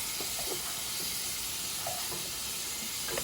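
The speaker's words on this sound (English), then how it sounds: "The beef is already starting to brown." Ground beef browns in a pot for a one-pot dirty rice, giving off a steady, close, broadband sizzle with faint scraping from stirring.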